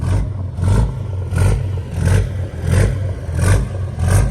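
A Cummins diesel monster truck engine fitted with a 5-inch exhaust revs repeatedly, loud and close, in a steady rhythm of about six surging blips, each rising and falling roughly every two-thirds of a second.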